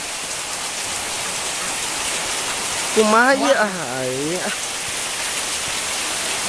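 Steady rain falls evenly throughout, a dense soft hiss, while a voice speaks briefly partway through.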